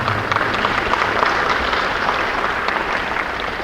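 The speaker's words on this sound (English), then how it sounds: "I believe that deserves a round of applause" Press conference audience applauding a festival sponsor, loud close dense clapping from a crowd that holds steady for nearly four seconds.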